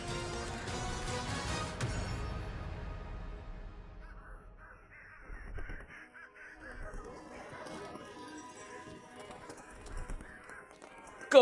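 A crow caws repeatedly in a dramatized fantasy scene, harsh calls that start loud and trail off, with faint voices and background sound around them.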